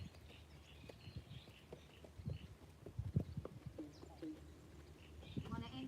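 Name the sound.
horse walking, hooves clip-clopping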